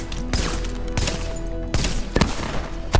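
Gunshots in a video game: several sharp, loud reports at irregular intervals, some in quick pairs, over a steady low game hum and tonal background.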